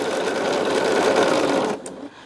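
A home sewing machine stitching a quilt top, running steadily and close for nearly two seconds, then stopping with a small click.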